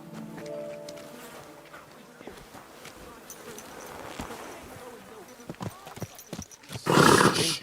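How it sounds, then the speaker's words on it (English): A horse in the medieval video game Kingdom Come: Deliverance II snorts and shifts with soft hoof steps, then gives a loud, close burst near the end, with game ambience beneath. "Easy, good horse."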